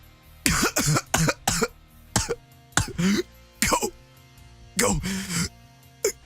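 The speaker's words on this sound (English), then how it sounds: "Then it is possible to hear someone coughing." A person coughs and clears their throat repeatedly in rough, uneven bursts, close by, with breathy gasps between some coughs.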